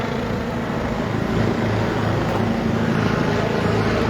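An EC-145 twin-turbine helicopter at a farmers' border blockade between France and Spain, a loud continuous turbine whine and rotor drone filling the whole stretch without pause.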